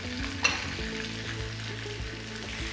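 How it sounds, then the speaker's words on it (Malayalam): Nuts for a kofta curry garnish sizzle in hot oil in a pan, a steady close frying hiss with soft stirring scrapes and a brief clack near the start. "കുറച്ച് നട്ട്സ് ഗാർണിഷിന് വേണ്ടിയിട്ട് കുറച്ച് നട്ട്സ് ആഡ് ചെയ്യാം."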